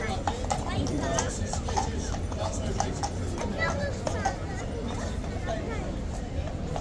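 Horse hooves clip-clop at a steady walking pace as the animal is led back in by army handlers, the hoofbeats clear and close over a constant murmur of crowd chatter.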